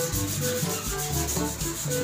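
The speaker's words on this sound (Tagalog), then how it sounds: "Ito lang pala ang magic na paglinis ng ating CR, ang liha." Sandpaper scrubbing hard against a dirty bathroom floor, a loud continuous rasping rub that pulses in steady back-and-forth strokes, close up and alone.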